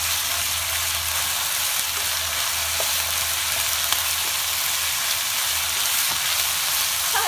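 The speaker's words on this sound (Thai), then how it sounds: "อันนี้ก็ผัดไฟแรงเลยนะคะ" Loud, steady sizzling of chicken, carrots, mild chilies and wood-ear mushrooms stir-fried in a very hot pan over high heat, with small crackles and pops scattered throughout.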